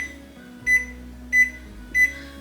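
A kitchen oven timer beeps three times in a steady rhythm, sharp and close, over a low background hum with no talk.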